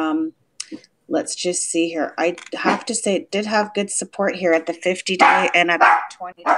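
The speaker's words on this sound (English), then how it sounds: "Oops, excuse my dog. He's like a little guard dog sometimes." A small dog barks a few times in the background while a person talks continuously over it during a live stream.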